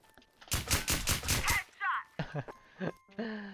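Bursts of rapid gunfire crackle through a Thai shooting video game match, starting about half a second in and running for a second, followed by scattered shorter shots and game effects.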